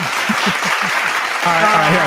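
A crowd claps in a dense burst of applause while a voice speaks over it.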